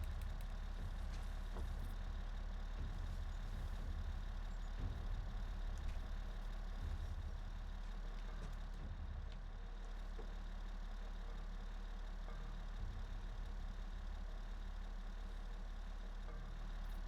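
Armoured military vehicle engine idling in The Last of Us, a steady low rumble holding at a constant level throughout, close and continuous with no voices.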